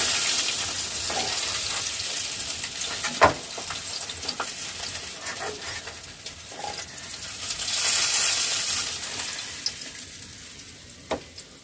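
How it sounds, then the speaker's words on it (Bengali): Chili sizzles in hot oil in a pan. A steady, fairly loud frying hiss runs throughout, with occasional sharp clinks and pops, and no talking. "তারপর আমি তেলের ওপরে আমি লঙ্কাটা একটুখানি ভেজে নিচ্ছি।"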